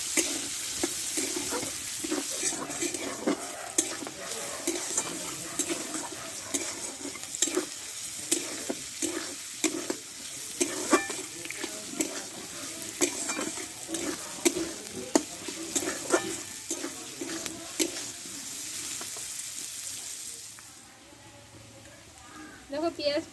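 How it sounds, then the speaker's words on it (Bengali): Chopped onions fry in a pan with reddened chillies for a bitter gourd masala curry, a steady loud sizzle broken by frequent scraping stirs throughout, easing off near the end. "আমি একটু ভালো করে ভেজে নিয়েছি"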